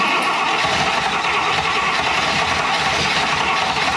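A 1960 Buick Flattop engine cranks over and tries to start, giving a loud, continuous, dense churning roar that holds steady throughout without catching.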